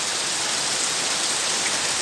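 Heavy, steady rain pours down in Banda Aceh during a flood, a dense continuous hiss of drops on surfaces with no breaks, loud and close, with no voices.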